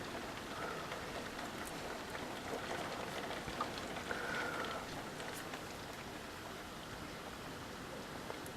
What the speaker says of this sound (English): And now it's gone more back to rain.